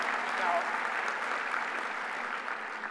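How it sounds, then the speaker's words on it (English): Audience applause at a lunch event Q&A, a steady wash of clapping from a crowd that holds evenly loud for about three seconds, with speech faintly mixed in. "You should applaud."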